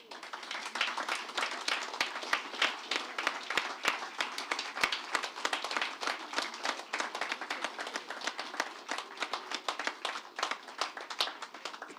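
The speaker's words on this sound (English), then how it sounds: "just rise for a round of applause" Brisk clapping from a standing audience at a capital market business event, a sustained patter of many hands with sharp individual claps, steady for twelve seconds.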